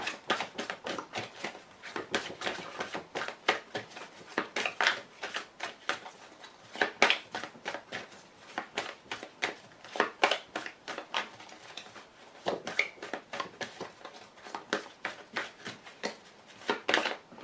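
Tarot cards being cut and shuffled by hand, a steady stream of rapid papery riffles and soft taps running on for many seconds, close and fairly quiet with no talk.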